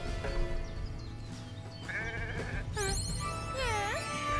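Sheep in the video game Renowned Explorers give a string of loud, wavering bleats, several overlapping and rising over a dense, steady game soundtrack.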